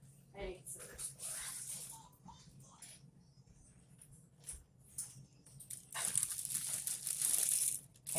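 Cake mix packaging being cut open with scissors and handled in a kitchen: close crinkling and rustling of the plastic bag with snips and tearing, louder toward the end, with a voice speaking in between.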